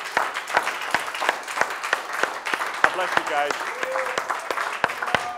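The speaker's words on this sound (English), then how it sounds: "Give him a hand clap this morning." A church congregation clapping during a Sunday morning service, distinct sharp claps in a fairly steady rhythm across the whole stretch, with a voice speaking briefly over them near the end.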